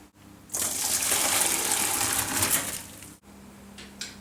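Cooking water from wilted Swiss chard pours out in a strong steady gush lasting a few seconds, close and loud, then stops abruptly and leaves a quiet residual trickle.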